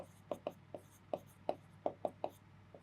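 Chalk tapping and scraping on a classroom blackboard during a maths lesson, a quick run of about ten crisp strokes in uneven rhythm, close and clear over a quiet background hum with no voice.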